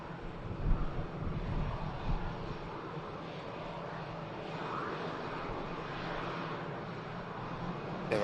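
A Ryanair airliner floats in to land at Manchester Airport, a distant steady jet-engine roar with some wind buffeting on the microphone.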